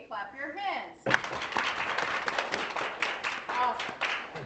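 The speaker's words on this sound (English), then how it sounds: "Everybody clap your hands." A group at a design playtest meeting claps hands together in a lively burst of applause that lasts several seconds. A voice is heard briefly just before the clapping starts.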